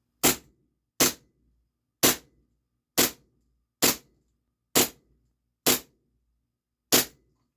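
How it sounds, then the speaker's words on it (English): Eight sharp, loud pops from a Steyr L9-A2 CO2 blowback airsoft pistol firing BBs, spaced about a second apart in a steady rhythm, each a crisp snap of gas and slide with a short tail, close by and with no talking. "rack it, and then shoot."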